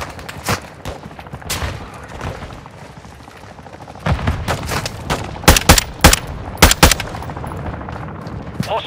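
Gunfire in Call of Duty: Modern Warfare II comes as sharp, loud shots and short bursts, sparse at first and then a cluster of close, punchy reports, with little talk.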